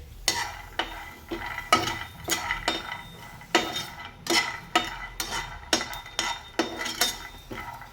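A spoon scrapes and clinks repeatedly against a pan while chillies, peanuts and garlic dry-roast for a spinach thecha, giving steady close stirring strokes with a faint sizzle and no talking.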